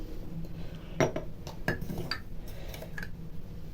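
A spoon clinks against a bowl as a spoonful of sugar is added to a dough mixture of milk and water, a few light metallic taps, close and fairly quiet, with no talking.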